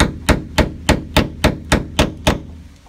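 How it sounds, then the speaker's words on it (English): Sharp, loud hammer blows drive a punch against the head of a stuck bolt on a 1977 VW Type II bus hatch, eight evenly spaced metallic strikes at a steady pace, close up with no talking. "take our punch and catch the head of the bolt and screw it"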